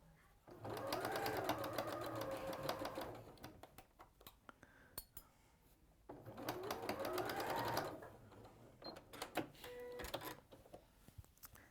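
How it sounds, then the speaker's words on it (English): A sewing machine top stitches down both sides of a bag in two steady, fairly loud bursts of rapid stitching, with quieter pauses and faint handling noises between them. "So top stitching down both sides, and where makes it just makes it look so nice and neat"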